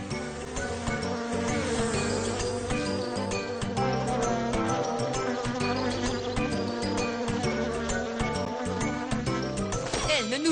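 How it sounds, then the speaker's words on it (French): Cartoon bees buzzing over a sunflower field, a loud continuous insect drone woven through bright busy background music for the full stretch. "voilà des abeilles qui arrivent"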